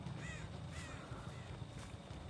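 Crow cawing in the Dead by Daylight horror video game, a few harsh caws over a steady low rumbling game ambience, moderately close, with no talking.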